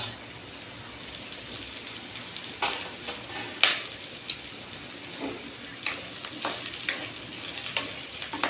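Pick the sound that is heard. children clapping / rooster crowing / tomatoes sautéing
tomatoes sautéing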